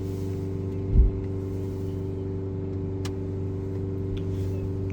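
A Citroën DS5 diesel engine, serviced for a DPF fault, runs steadily at about 2900 RPM with a constant mid-pitched hum and a brief louder thump near the start, heard close and alone.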